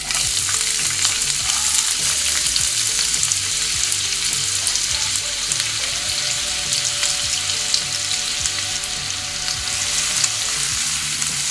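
Finely chopped onion sizzles steadily in hot oil in a pan while frying toward light pink, a dense continuous crackle with faint scraping and stirring underneath and no talking.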